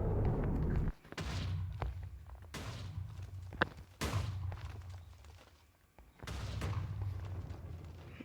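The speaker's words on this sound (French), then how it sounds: "on va faire exploser toutes les TNT ensemble" A village blows up as TNT is detonated in a video game, a series of loud booming explosions in quick succession, each with a sharp burst and rumbling tail, separated by brief lulls.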